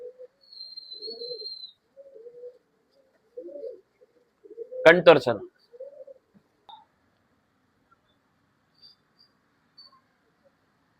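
Pigeons offered for sale in Bangalore during breeding time coo in soft, low, repeated bursts at close range. Someone speaks briefly and a sharp rustling burst cuts in midway, followed by long quiet gaps.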